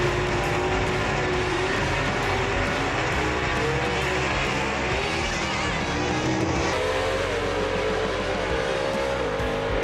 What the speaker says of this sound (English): Mike Blackwell with a good launch and a straight run right there